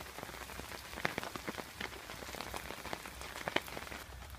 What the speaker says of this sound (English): Non-stop rain now for what, about 5-6 hours